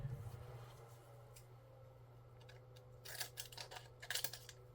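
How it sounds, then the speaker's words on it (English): Scissors snip through masking tape during car primer and paint prep, a few crisp cuts clustered near the end over a steady low hum, fairly close and quiet. "I'll just come back in and cut it with a pair of scissors."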